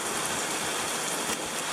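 Heavy monsoon-like rain pours down in a thunderstorm, a dense, loud, steady hiss of drops striking surfaces nearby, with no voices over it.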